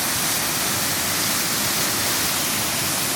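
A dense, unbroken roar from Sol Duck Falls and the rapids running away from it, heard close and loud as constant white water with no pauses.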